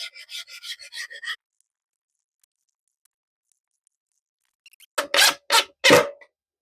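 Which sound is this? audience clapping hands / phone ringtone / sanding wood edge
sanding wood edge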